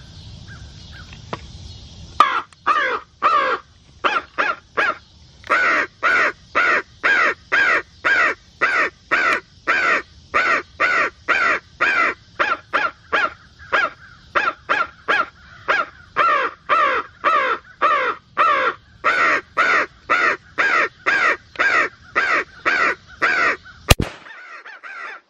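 Electronic crow caller device blasting a rapid, steady series of loud crow caws, about thirty calls in a row at an even rhythm, close and dominant, set by a pond outdoors.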